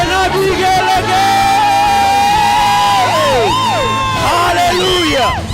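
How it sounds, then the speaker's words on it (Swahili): Church congregation at a Kikuyu Sunday service cheering, with high warbling ululation rising and falling loudly over a crowd of shouting voices. "Shangwe na vigelegele"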